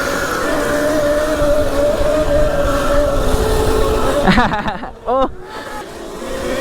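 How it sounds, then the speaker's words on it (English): Small dirt bike engine buzzing steadily while ridden, loud and close with wind noise, then rising and dipping in sharp revving bursts near the end; a brief exclamation is heard. "it's so cool riding this bike with more power"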